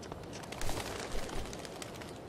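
A bird coos softly in Life Is Strange: Before the Storm, a few faint calls set against a dense wash of ambient game noise, with no talking.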